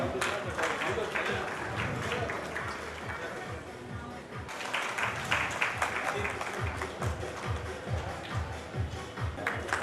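Audience clapping at a Honda motorcycle launch event, a dense continuous crowd applause lasting throughout, with a brief dip midway before picking up again.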